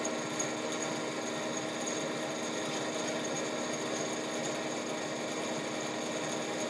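A homemade lightning strike fire starter grinds continuously, giving a dense, steady buzzing rasp with a rapid mechanical rattle, close and fairly loud, with no talking over it.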